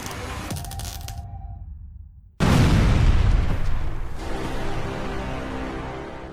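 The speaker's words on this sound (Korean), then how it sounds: "히터가 폭발했다. 굉음이 났고 불길이 붙는다." A heater explodes indoors with a sudden loud blast after a brief near-silence, followed by a dense, roaring wash of fire that stays strong and slowly eases, close and without speech.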